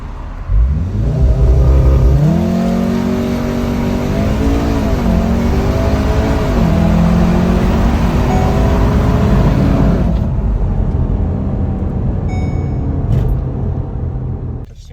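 A car in race mode with traction control off launches hard from a standstill toward 100, its engine loudly climbing through rising revs with shifts between gears for about ten seconds, then easing off to a quieter idle.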